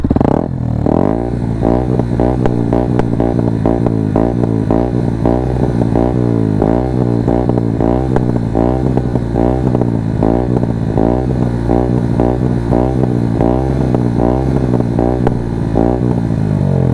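A Yamaha WRX 125 supermotard idles loudly then revs repeatedly in quick bursts, its Arrow exhaust run without baffle giving a harsh, throaty, pulsing roar close by throughout.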